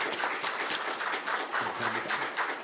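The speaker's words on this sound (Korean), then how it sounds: "우리 고맙다고 박수 한번 주시겠습니다." A church congregation at a Wednesday evening service applauds steadily in a dense, moderately loud wash of clapping, with a voice speaking faintly near the end.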